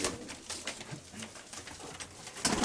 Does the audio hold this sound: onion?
no